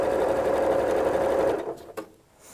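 A sewing machine stitches gingham quilt pieces in a steady, close, loud whir for about a second and a half, then stops, followed by a couple of faint clicks.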